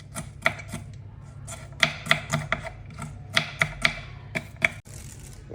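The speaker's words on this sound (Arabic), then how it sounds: "هلا رح افرم البصلة ناعمة" A knife finely chopping a whole onion on a board, a close series of sharp irregular taps and thuds in quick bursts with short pauses, no talking.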